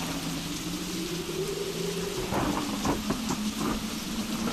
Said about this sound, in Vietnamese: Mưa như vậy biết khi nào mà tạnh